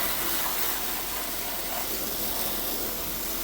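A water hose sprays steadily while rinsing acid from a Ford's interior during a POR-15 restoration, making a continuous broadband hiss and gush of spray at even, fairly faint level with no talk.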